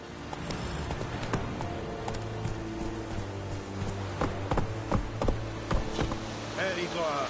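Roach, the horse in The Witcher III, gallops with a steady, rhythmic clip-clop of hooves, moderately loud, while a voice speaks over the hoofbeats.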